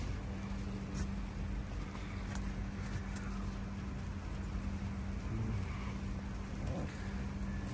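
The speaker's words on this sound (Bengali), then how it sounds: "বৃষ্টি পড়তেছে এখন।" Steady rain falls over Abu Dhabi under a darkened sky, a constant, even wash of hiss and patter with a low rumble beneath and no voices.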